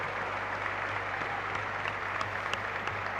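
A crowd at a political gathering in Rosario, Argentina, claps in a strong, continuous round of applause that fills the hall evenly, with a low electrical hum running underneath.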